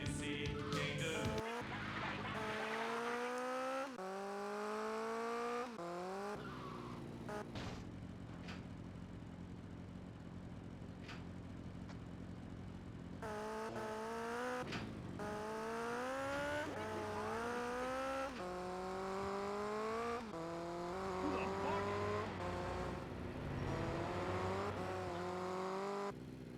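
A car races in the PS2 game GTA Vice City Stories, its engine revving and shifting through rising gear sweeps with tire squeals, loud and continuous except for a brief quieter stretch midway.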